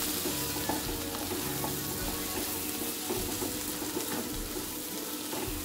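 Prawn bhuna sizzles steadily in a pan while a spoon stirs and scrapes through it, producing soft irregular clinks over a continuous low frying hiss, close and fairly quiet, with no speech.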